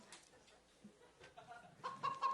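A man imitates a chicken with faint, quiet clucking noises amid low room sound on a podcast, the clucks bunching up toward the end.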